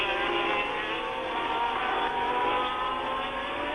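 A 1979 Ferrari Formula 1 car powering uphill on the Dijon circuit during the French Grand Prix, its engine a loud, steady, high-pitched roar held at full throttle throughout, with no voices over it.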